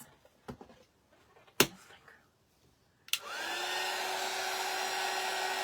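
After a few soft knocks and clicks, a hair dryer switches on to dry a craft door hanger and blows steadily with a constant whooshing whine until the end.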